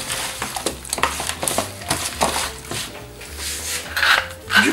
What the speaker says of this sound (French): Avec les gants ou avec une spatule, on va bien mélanger tout ça.